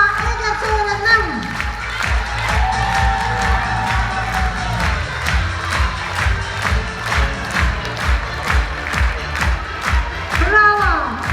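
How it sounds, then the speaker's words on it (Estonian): An audience at a children's Mother's Day ice skating school concert applauds and cheers loudly, with steady rhythmic clapping and shouts filling the hall, and voices calling out over it. "Bravo, bravo. Aplaus."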